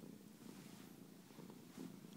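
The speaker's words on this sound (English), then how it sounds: "But he's purring." A wounded cat recovering from a coyote attack purrs softly and steadily, a faint, continuous low rumble close to the ear.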